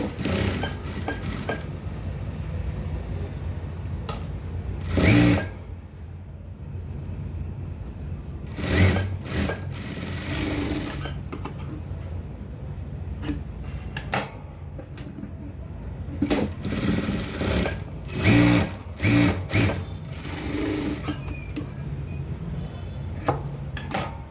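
Sewing machine stitching the shoulder seam of a garment in several short motorized bursts separated by pauses, with handling noises and quiet talk between runs.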